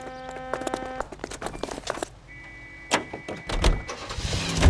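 Period car in L.A. Noire, a door clunking shut and the engine starting, then revving and pulling away with mechanical clatter, close and moderately loud.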